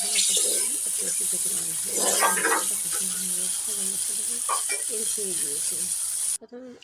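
A steady sizzle of spice paste frying in a wok, with occasional stirring scrapes and someone talking over it.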